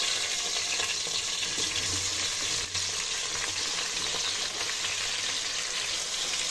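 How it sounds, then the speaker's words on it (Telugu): Tomatoes and onions frying in a pan for chicken biryani, a dense continuous sizzle with faint stirring scrapes, steady and close with no talk. "కొన్ని ఆనియన్స్ ఇందులోనే పెట్టేసి టమాటాలు వేసుకోవాలండి."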